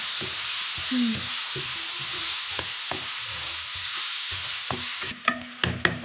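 Jackfruit seeds with kanthari chilli powder sautéing in a pan, a steady sizzle broken by scraping stirs and sharper clacks near the end, with no talk.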